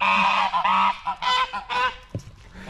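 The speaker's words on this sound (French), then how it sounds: "Je viens de donner à manger aux oies." Geese honk loudly and repeatedly at close range, several overlapping calls in quick succession with brief pauses between.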